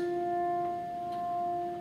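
A single piano note rings on with the damper pedal held down, a soft, steady tone that hangs evenly for the whole stretch without fading away.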